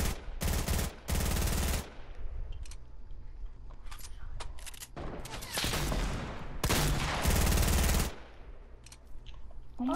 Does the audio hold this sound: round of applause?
no